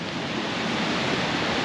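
Water rushing over a weir on the River Medway, a steady broadband roar heard from nearby, even and unbroken with no voices.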